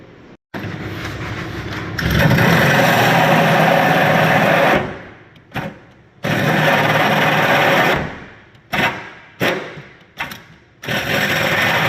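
A power drill whines loudly in long bursts, then in several short stop-start pulses with brief silences between, close up and without talk, drilling into a vehicle near its gas tank.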